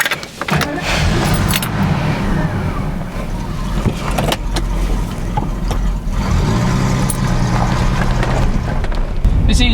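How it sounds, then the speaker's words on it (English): A 1982 Jaguar XJ-S HE's V12 engine cranks and fires up, settling into a loud, steady, rumbling idle close by, with some light jangling of keys. "let's fire up the V12"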